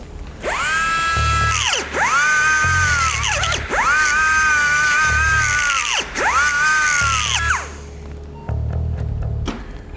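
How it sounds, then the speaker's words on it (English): Surgical drill boring out bone surfaces in a young Rottweiler's ankle joint during fusion surgery, whining loudly in four sustained bursts that dip briefly between them, then a quieter last run. "we've drilled out all the bone surfaces now"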